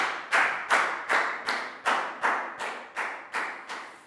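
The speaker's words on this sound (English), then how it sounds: "High five and a round of applause for Nadia." A Year 3 class claps for a classmate in a steady unison rhythm, about ten sharp, evenly spaced claps, close and clear with no talk.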